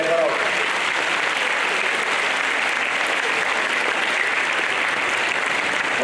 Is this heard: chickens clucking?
no